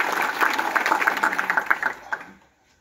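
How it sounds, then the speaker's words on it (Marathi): An audience claps to welcome a guest at a political rally, a short burst of dense clapping that thins out and stops after about two seconds, close and fairly loud, no voices. "याला जोरदार टाळ्या वाजवून त्याचं स्वागत करा"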